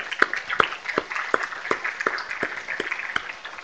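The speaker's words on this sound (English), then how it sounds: "That's worthy of a round of applause, isn't it?" Sparse, steady clapping from an audience at the ninth annual College Access Summit, individual hand claps spaced fairly evenly over a soft background murmur, modest in volume and close by.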